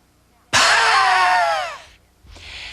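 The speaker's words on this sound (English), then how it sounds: "the exhale is going to be a diaphragmatic exhalation" A forceful diaphragmatic exhalation pushed out through closed lips gives a loud, wheezing, hissing rush that lasts about a second and a half, followed by a softer, shorter second breath.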